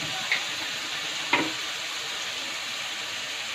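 Chana dal and chopped bottle gourd fry in a pan, a steady close sizzle with two brief scraping stirs of a spoon near the start.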